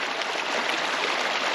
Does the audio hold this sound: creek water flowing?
yes